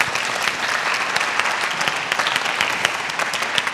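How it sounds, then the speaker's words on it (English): Steady, dense audience applause for a sponsor before a pre-show of Hansel and Gretel at the Queens Museum, a full room clapping evenly and loudly throughout with no talk over it. "If we could give him a round of applause."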